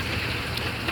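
Steady rain falling over the city of Jeddah, a continuous broadband hiss of drops on surfaces with light wind noise, unbroken for the whole second, no talking.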